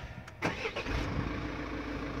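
A 2016 Toyota Proace Verso van starts: a brief starter crank, then the engine catches and settles into a steady, close idle rumble.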